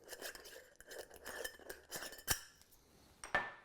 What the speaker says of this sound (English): And put the lid back on